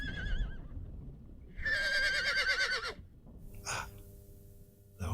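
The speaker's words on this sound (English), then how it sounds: "The horses." Horses whinny in short bursts, one long wavering neigh at the centre, with softer snorts and breaths on either side, heard fairly close and with no talking.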